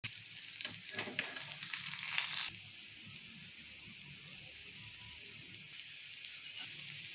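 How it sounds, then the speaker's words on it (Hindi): A paratha fries in ghee in a pan, a steady soft sizzle throughout with a few brief louder crackles early on, close and alone with no talk. "अब दूसरी साइड से हम लोगों ने इसको घी के अंदर फ्राई कर रहे हैं।"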